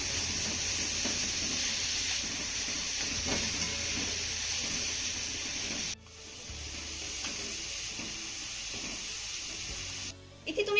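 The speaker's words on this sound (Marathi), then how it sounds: "हा कांदा आपल्याला हलका सोनेरी रंगावर परतून घ्यायचा आहे" Two finely chopped onions sauté in a pan until light golden. A steady sizzling hiss with soft scraping stirs runs throughout, breaks off briefly partway through, and resumes at a lower level.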